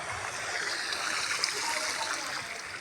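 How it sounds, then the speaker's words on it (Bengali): Floodwater flowing as a rising stream across a waterlogged area, a steady wash of rushing water, moderately loud and unbroken. "দেখুন এখানের মধ্যে কত জলের স্রোত আস্তে আস্তে বাড়ছে।"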